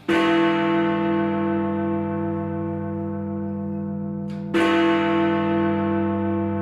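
Big Ben, the large clock tower bell in London, tolls loudly with a long, humming resonant decay, then is struck again, the fresh strike ringing out over the fading tone.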